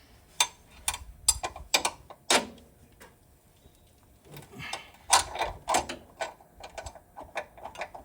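Ratchet working a bolt loose on a Subaru Legacy with an EZ30 engine: irregular bursts of sharp ratcheting clicks and metallic ticks, with short pauses between strokes and no talk.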